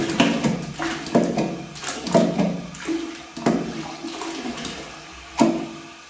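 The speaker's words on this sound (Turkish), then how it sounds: "Bu şekilde sifonu kullanıyoruz" A toilet cistern is flushed repeatedly while being repaired, giving a series of close, rushing water bursts with gurgling between them.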